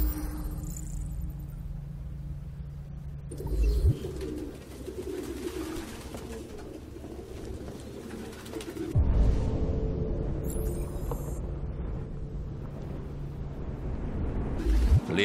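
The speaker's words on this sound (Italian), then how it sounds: "Nessun umano potrebbe vivere con dei piccioni del cazzo." Pigeons coo indoors in the video game Detroit: Become Human, soft repeated calls set against a steady low ambient hum and occasional rumbling shifts, no talking.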